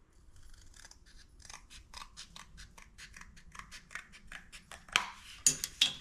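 Scissors or snips trimming a metal part for a Stryker chassis build, a run of quick, close, even snipping cuts that turns into a few louder, sharper cuts near the end, with no talk.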